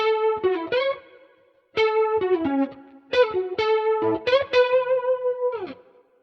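An electric guitar plays a choppy melodic riff with a swirling, wobbling modulation, notes sustained then clipped, ending on a long held note.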